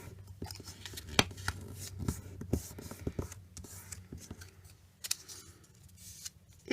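Scissors cut paper for a small handmade mini album, with a series of quiet, close, crisp snips and rustles, irregularly spaced and interspersed with soft handling noises.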